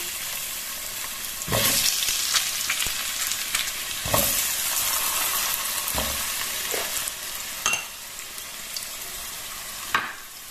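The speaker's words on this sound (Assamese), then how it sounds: "একেখিনি তেলতে মই আলুখিনিও ভাজি লম" Potatoes fry in the same oil after the fish, with a continuous hiss and crackle. Periodic bursts of louder spattering come as the pieces are stirred or dropped in. No one speaks.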